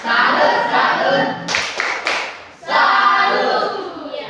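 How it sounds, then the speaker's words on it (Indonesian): An audience claps after a group presentation in a classroom, with dense continuous clapping interrupted by a brief dip and a few sharp louder claps, then resuming strongly before fading slightly. "Tepuk tangan dulu."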